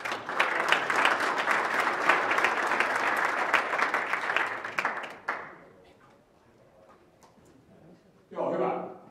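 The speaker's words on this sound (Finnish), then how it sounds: "antakaa itsellenne isot aplodit" Audience at a Finnish event giving themselves a big round of applause: loud, dense crowd clapping for about five seconds that stops abruptly, followed by quiet room noise and then a voice speaking.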